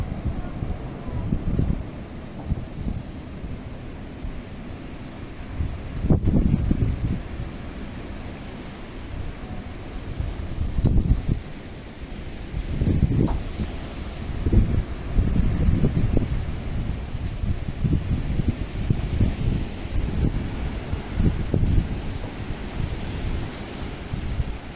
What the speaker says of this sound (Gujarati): પવન પણ છે બહુ ઉપડ્યો